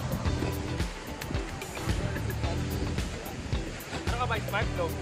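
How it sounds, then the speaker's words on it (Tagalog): Sea waves at Patar Beach in Bolinao, Pangasinan, wash and churn close by with wind buffeting the microphone, while people talk over the surf. "Ganda ng dagat, guys."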